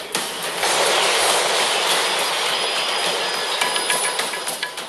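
A 6,000-ton freight train rushes past nearby, a broad steady roar with faint rhythmic rattling of cars on the rails, fading slightly toward the end.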